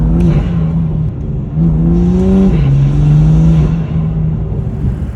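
BMW F87 M2 Competition engine fitted with MAD open air intakes, revving loudly and continuously up and down through several pulls, heard up close with no talking.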